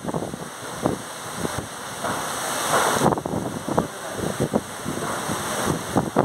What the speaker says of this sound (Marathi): एवढ्या प्रचंड वाऱ्यात झाडं उभी आहेत